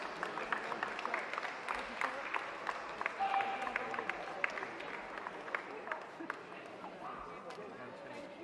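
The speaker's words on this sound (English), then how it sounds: "Warm applause for those leaving the ring," An indoor dog show crowd gives light, scattered applause as dogs of the utility and terrier groups leave the ring, with faint murmur and footsteps in the hall behind it.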